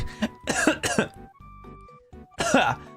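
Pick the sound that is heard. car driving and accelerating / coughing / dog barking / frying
coughing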